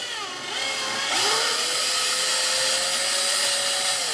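An electric drill whirs up to a steady high-pitched drone, drilling holes for an O scale Kadee coupler, running continuously for several seconds, close and loud with no talking.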